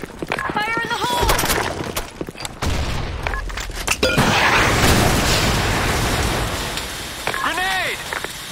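A grenade blast and gunfire in the BlackShot shooter game, a loud burst of explosive noise and rattling shots under shouted voices that come and go.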